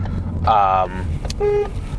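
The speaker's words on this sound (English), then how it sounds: "that was me honking because the guy was stopped at a green light for a good too long" Two short car horn blasts from inside a car, honking at a stopped car at a green light, loud and close over low engine rumble, the second toot a bit thinner than the first.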